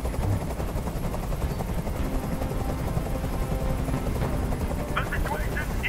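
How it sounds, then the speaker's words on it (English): A steady, loud helicopter rotor drone fills the scene in the video game Detroit: Become Human, a continuous dense rumble with faint crackling bursts near the end and some talk under it. "I can't stand that noise anymore. Tell that helicopter to get out of here."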